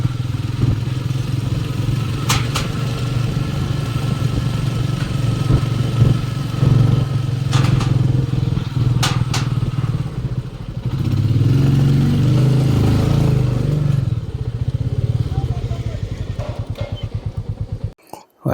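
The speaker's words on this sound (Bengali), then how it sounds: "পেছনে একটা বাইক চলে আসছে।" A motorbike comes up from behind on a road during a ride from Kolkata toward Nepal, its engine drone rising and swelling in the middle before fading, heard over steady riding and wind noise with a few sharp clicks.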